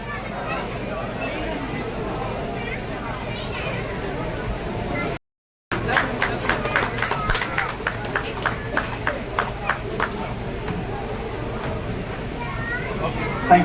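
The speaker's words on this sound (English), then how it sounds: "Give a big round of applause." Applause for a winning cat at an international cat show in India, scattered quick claps building amid crowd chatter and voices, ragged and moderately loud, after a brief cut of silence.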